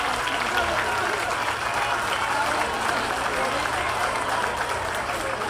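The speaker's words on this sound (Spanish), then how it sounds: "Con el aplauso de todos ustedes" An audience applauds to welcome the president of the Dominican Republic at a softball event, a steady, dense wash of clapping from a large crowd that holds evenly throughout, with voices mixed in.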